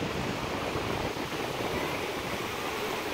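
Fast river water rushing at the Devprayag confluence of the Alaknanda and Bhagirathi, a steady, dense roar close by with no break and no voices.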